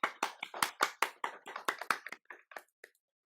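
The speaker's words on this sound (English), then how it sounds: "let's clap at the end when we finish reading" A small group claps together after a child's reading at a writing workshop, a burst of sharp overlapping hand claps that thins out and stops within about three seconds.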